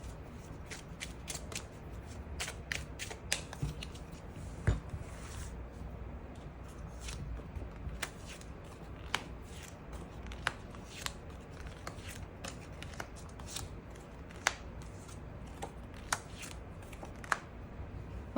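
Tarot cards being shuffled and drawn, crisp repeated flicks and slides of card stock close to the microphone. Sharp snaps recur irregularly over a soft rustling bed, with no talking.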